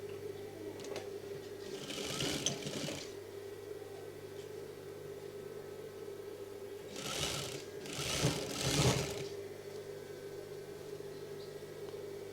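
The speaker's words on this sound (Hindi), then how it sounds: "इस तरह से डायरेक्ट सिलते रहोगे।" A sewing machine stitches a velvet shrug jacket in a few short runs, a soft whirring that rises in three brief bursts over a steady low hum, close and without talk.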